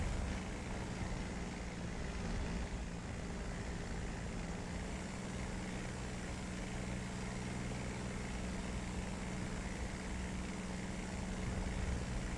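A Spitfire's piston engine drones continuously in War Thunder, a loud, steady propeller roar with a low rumbling hum that holds without a break throughout.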